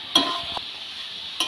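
Bathua greens being stirred and fried in a wok, with a soft continuous sizzle broken by a few sharp scrapes of the spatula against the pan, close and clear with no talking.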